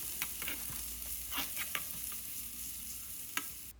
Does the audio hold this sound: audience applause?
no